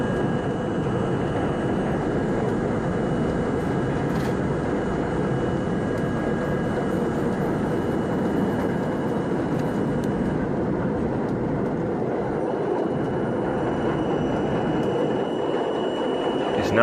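A 1964 Budd Co. R32 New York City subway car runs on a C train bound for Euclid Avenue, a loud, steady roar of wheels and motors that fills the car without a break.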